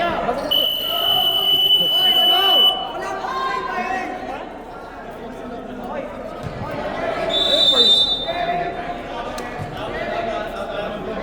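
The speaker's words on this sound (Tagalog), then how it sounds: "Buzzer mo nga ulit, buzzer mo nga ulit." A shrill electronic buzzer sounds twice, briefly, over a noisy crowd and chatter in a large echoing space during a league knock-out game.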